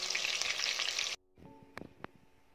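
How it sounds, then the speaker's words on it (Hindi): Nargisi kofte, minced meat wrapped around egg, frying in a pan: loud steady sizzle of hot oil that cuts off abruptly, followed by a few faint clinks and taps. "अब इसके दूसरी तरफ भी अच्छे से पकने के लिए छोड़ देना है थोड़ी देर के लिए।"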